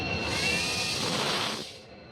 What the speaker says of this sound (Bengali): এদিক থেকে একটা ট্রেন এসছে।